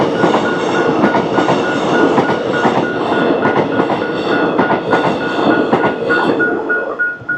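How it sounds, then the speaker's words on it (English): A Werribee-line suburban train in Melbourne rumbles past close by without stopping, loud and steady, its wheels clacking rhythmically over the rail joints throughout. "That one would be the Werribee train because it didn't stop."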